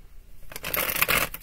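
Tarot cards are shuffled close up after a quiet start, a dense, quick riffle of papery flicks lasting about a second.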